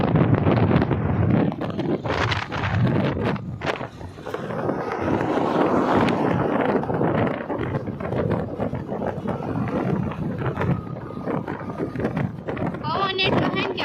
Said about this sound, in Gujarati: પવન એટલો હે કે ફોને હાથમાં નથી રહેતો.